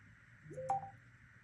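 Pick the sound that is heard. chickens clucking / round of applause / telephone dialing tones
telephone dialing tones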